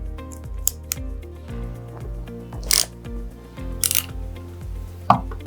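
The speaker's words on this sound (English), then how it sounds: "In one swift motion, completely close the handles to crimp and cut the cable." A Safe-T-Cable tool crimping and cutting safety cable, with several distinct sharp metallic snaps and clicks spaced apart over a low mechanical ratcheting background, close and clear.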